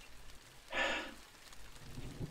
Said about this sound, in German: dieses Regen von oben